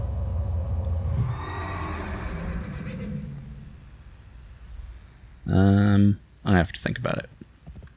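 A horse in the World of Warcraft video game gives a loud, close whinny near the end, followed by a shorter snort-like call, after stretches of quiet background sound and someone talking.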